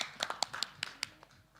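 A congregation at a church gathering claps hands in a short burst of about eight quick, sharp claps with a slightly uneven rhythm, faint and fading, with no talk over it.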